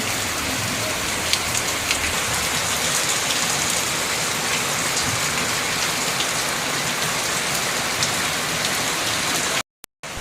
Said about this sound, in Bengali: আর আজকে বাইরে বৃষ্টি কেমন হচ্ছে দেখুন